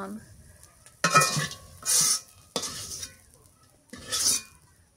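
Bursts of scraping and stirring as bitter gourd fries crisp in a sizzling pan, four or five short strokes with pauses between, oil crackling faintly underneath.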